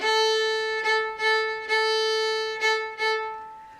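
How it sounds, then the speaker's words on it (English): Fiddle sounding one sustained note in a shuffle bow rhythm, with repeated bow strokes giving a steady long-short-short pulse, close and clear with no talking. "We're going to use the shuffle bow"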